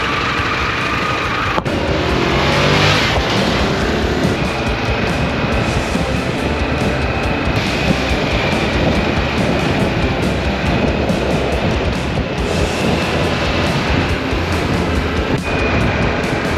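Harley-Davidson Pan America motorcycles riding on the road near Daytona, a loud continuous rush of engine and wind noise that swells and eases over the ride, with no talk.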